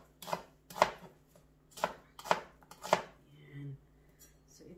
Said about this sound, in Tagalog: sa paghiwa ng mga gulay, nasa sayo kung anong shape o hugis ang gusto mo.